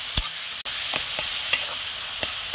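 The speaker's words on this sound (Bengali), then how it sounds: "এবার এইভাবে কিন্তু আমি ভালো করে কষিয়ে নেবো" Mushroom curry sautés in a pan with a continuous sizzle, punctuated by sharp clacks of a utensil stirring and scraping at an uneven rhythm, with no talking.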